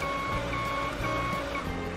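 A truck's backup beeper sounds in steady repeating tones over a constant engine drone, fairly close and clear, with no talking.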